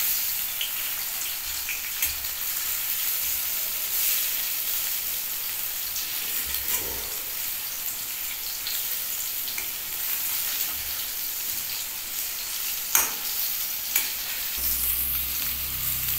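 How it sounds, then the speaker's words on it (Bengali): Slices of pointed gourd (potol) fry in hot oil in a pan, giving a steady, close crackling sizzle that runs throughout with a few sharper pops and faint stirring scrapes, no talking. "এবার প্রত্যেকটা আমি একটু লাল লাল করে ভেজে নিচ্ছি। উল্টিয়ে পাল্টিয়ে দেখতে হবে ঠিকঠাক হচ্ছে কিনা।"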